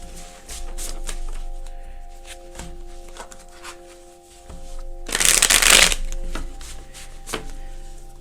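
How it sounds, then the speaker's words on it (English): A tarot card deck is shuffled close by, with quick riffling flutters and soft taps building to a loud dense cascade of cards near the end, over a faint steady background tone. "Let's use the shuffle deck."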